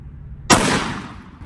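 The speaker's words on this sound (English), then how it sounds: "that's our 12 gauge Sabot slug" A single 12 gauge sabot slug shot goes off close by, a sharp, loud blast at about half a second followed by a long, fading rumble of echo.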